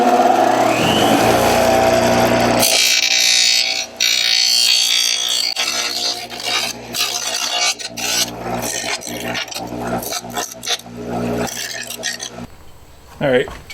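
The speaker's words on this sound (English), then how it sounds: "I got a little grinding wheel here. I'm just gonna clean up some of these rough edges." A small grinding wheel buzzes and rasps against the rough edges of a kayak hatch during a Torqeedo motor installation on a Riot Mako 14, loud and close in choppy bursts of varying pressure.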